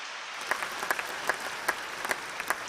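Audience at a church memorial feast clapping for the youth organisers, with scattered distinct claps standing out over a steady wash of applause throughout.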